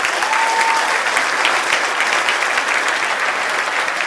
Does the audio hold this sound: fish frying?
no